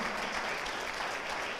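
A church congregation claps together in steady, dense applause, loud and close throughout the short stretch with no voices over it.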